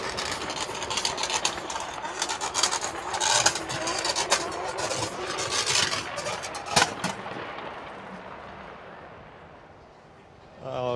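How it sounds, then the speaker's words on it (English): A drift car engine runs at an FIA Intercontinental Drifting Cup event in Riga, with loud rapid popping bursts and rough revving, then fading away. Crowd noise and announcer-like speech sit beneath it. "At least the engine is running."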